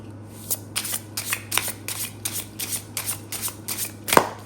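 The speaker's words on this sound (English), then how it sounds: "Do a good hard shuffle." A deck of tarot cards is shuffled with rhythmic riffling bursts, close and crisp, ending in a sharp snap.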